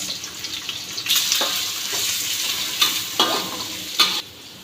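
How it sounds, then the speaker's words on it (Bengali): Whole cinnamon, cloves and cardamom hit hot oil for chana bhuna, giving a sizzling fry with stirring scrapes and a few sharp bursts as each spice drops in, close and without speech. "তারপরে দিয়ে দেবো দারচিনি, তারপরে দিয়ে দেবো লবঙ্গ যাকে বলে লং, তারপরে দিয়ে দেবো এলাচ"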